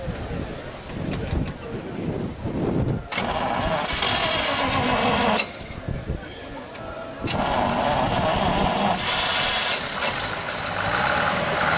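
A 1934 Buick Design 66C Convertible Coupe with a tricky choke cranks, catches and settles into a rumbling idle, close by, with wind buffeting the microphone.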